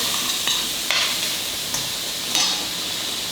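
Shrimp fry in a pan for a tom yum pasta, a loud, close, continuous sizzle with a few brief scraping stirs breaking through.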